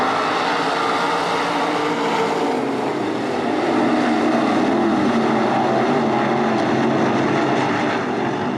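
A pack of 305 sprint cars starts a heat race at Attica Raceway Park, their engines merging into a steady, loud, droning roar that holds constant and builds slightly partway through, with no talk over it.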